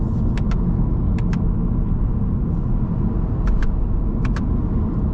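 Steady road rumble and engine drone come from inside a 2024 Subaru Impreza RS with a CVT, driven in S mode, with faint intermittent clicks over the continuous hum and no talk.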